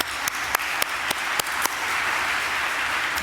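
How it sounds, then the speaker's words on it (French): Applause from an audience at a municipal swearing-in ceremony in Montreal, a dense steady patter of many hands with a few sharper claps standing out, moderately loud and continuous. "on a de quoi applaudir"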